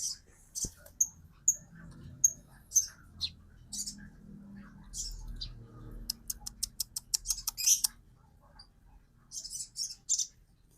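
Sogon bird kept behind a house giving sharp, high chirps, single calls and quick runs of rapid twitters, with a low murmur of voices underneath.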